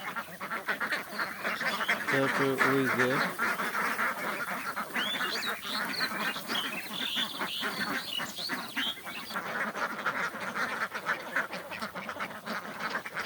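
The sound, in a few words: ducks quacking while eating spinach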